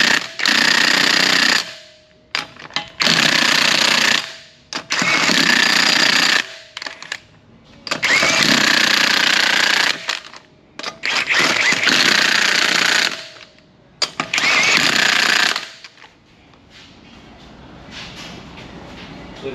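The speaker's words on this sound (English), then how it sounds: "It prevents this gun from delivering excessive torque to those lug nuts." Pneumatic impact gun fitted with a torque-limiting stick driving lug nuts on a Kia Sedona, six loud rattling bursts of roughly two seconds each separated by short pauses, close and alone, ending in quieter hiss.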